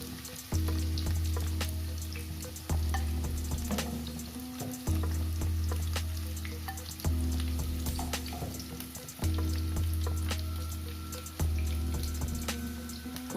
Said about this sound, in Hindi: कोबी को एमती लाल लाल करी सब कोबी को भाजी देबे।